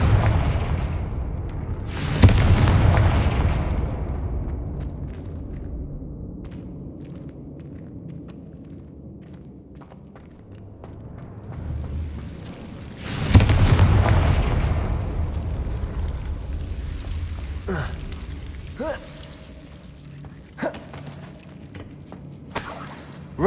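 Confringo spell blasts in Hogwarts Legacy go off as two loud, booming explosions about eleven seconds apart, each trailing into crackling debris and rumble, with smaller pops in between.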